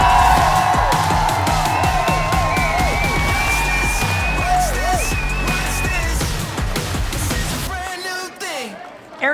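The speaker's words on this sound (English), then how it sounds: "give a big boisterous applause for the one and only Arian Foster" A studio audience cheers and applauds for former NFL running back Arian Foster, loud continuous whooping and clapping with a crowd roar throughout, thinning toward the end.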